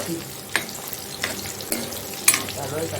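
Bombay duck dry fish frying in hot oil over a low flame, giving a steady close sizzle with a few sharper crackles and pops as the pieces settle, no voices.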